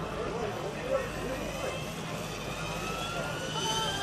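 A radio-controlled 3D model helicopter flies nearby with a steady whirring rotor and engine drone, partly under chatter from onlookers.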